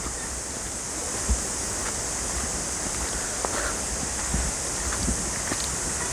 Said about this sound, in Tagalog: Yan na ang falls pare, nakikita ko na.